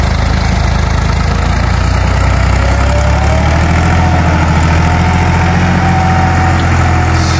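A Massey Ferguson 260 tractor engine runs loud and close at a steady, throbbing idle, with a constant low rumble and mechanical clatter throughout.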